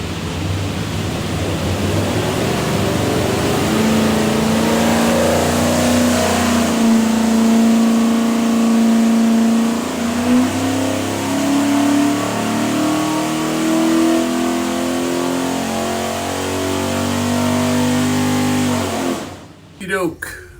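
A stacked 427 Windsor V8 with a custom-grind hydraulic roller cam, built for a Cobra, runs on a dyno and revs up in one long climbing pull before cutting off sharply, with a voice heard over it.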